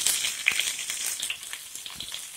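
Onions for Hakka noodles sizzle and crackle in a hot pan with garlic, a steady close frying hiss dotted with small pops, quiet and alone.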